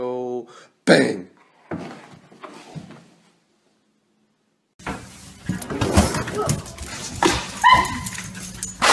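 A pet dog yips and whimpers at the start, then after a short silence a busy stretch follows with dog noises mixed among people talking and household clatter.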